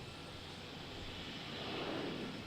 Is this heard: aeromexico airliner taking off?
yes